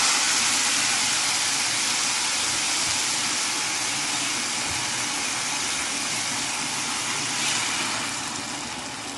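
Water pouring into a cooking pot of green beans and meat, a steady broadband hiss that runs continuously for the whole stretch, loud and close, easing slightly near the end, with no talking.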